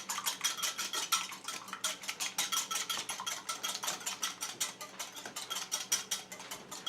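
Egg whites beaten with a whisk in a bowl for homemade granola, a fast, even run of clinking strokes against the bowl's sides, close and steady throughout.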